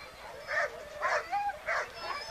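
Sled dogs yipping and barking at the start line of the 1990 Alpo International Sled Dog Races, several short bursts of barks in a row at moderate distance over crowd ambience.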